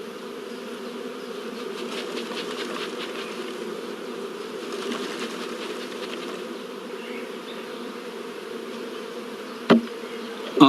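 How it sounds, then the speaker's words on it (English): Young honey bees brushed from brood frames into a shook swarm box hum in a dense, steady, close buzz that continues throughout, with a couple of brief knocks near the end. "we brush the young bees off several frames of brood"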